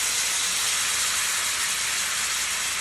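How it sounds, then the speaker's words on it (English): A large piece of venison sears in a hot cast iron skillet, producing a loud, steady, close sizzle that stays even throughout with no talking. "you want to hear that sizzle right there"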